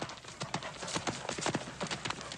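Horse hooves clip-clop steadily on hard ground as a hitched horse is driven off, a quick, fairly close rhythm of hoofbeats with a faint whinny mixed in.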